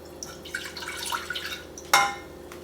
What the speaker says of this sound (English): So here's 1 cup of the fall broth.